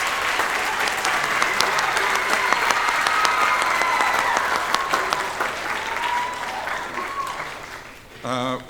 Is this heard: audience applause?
yes